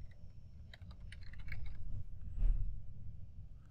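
Someone types on a computer keyboard in a quiet office setting, with soft, close, rapid key clicks in a short burst over a low background hum.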